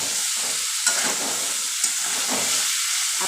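Cauliflower and potatoes fry with spices in a pan, giving off a steady loud sizzle and steamy hiss, with a couple of brief scraping stirs in between. No voices.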